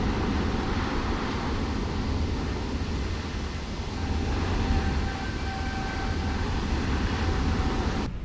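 Airliner engines in Microsoft Flight Simulator 2024 give a steady, loud broadband roar as they spool up for takeoff, with a faint rising whine near the end.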